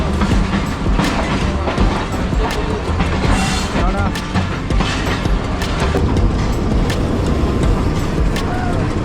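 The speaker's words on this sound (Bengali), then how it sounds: "এই চাঁপাই নবাবগঞ্জের শাটল ট্রেনে করে যাব" Chapainawabganj shuttle train rolling along the rails, a loud, steady clatter of wheels and carriage rumble filling the whole stretch close up, with faint voices in the carriage mixed into the noise.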